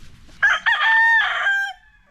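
A single rooster crows once, loud and close, a drawn-out tonal call lasting over a second before trailing off into quiet.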